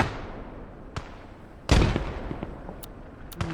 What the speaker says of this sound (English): Ooh, good nade.